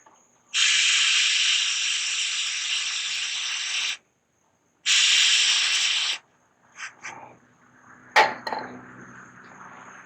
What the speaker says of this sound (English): Discharge a small amount of paint in the bottle cap